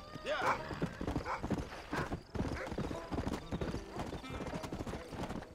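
Hooves of a galloping horse in the Red Dead Redemption video game, rapid rhythmic clip-clop with a whinny near the start, heard under excited talk from players.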